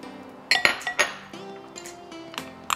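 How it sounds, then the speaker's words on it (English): Batter of pancake flour, soy sauce and garlic for Korean chive and shrimp pancakes being mixed in a bowl, with a utensil clinking sharply against the bowl several times up close and a softer scraping in between. "Put into bowl and mix it together."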